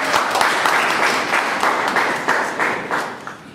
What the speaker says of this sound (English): A round of applause for Aaron Watson.